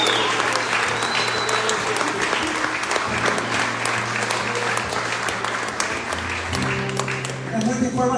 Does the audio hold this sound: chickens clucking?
no